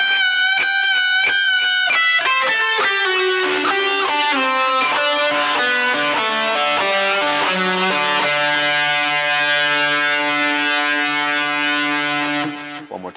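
Distorted electric guitar plays a riff, a fast run of descending notes ending on sustained ringing chords, loud and alone with no voices.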